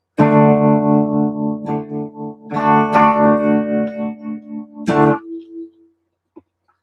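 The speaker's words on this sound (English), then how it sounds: "here's the Vox Tremolo" An electric guitar plays sustained chords through a Vox Tremolo effects unit with a wavering, pulsing tone, then rings out and fades to silence.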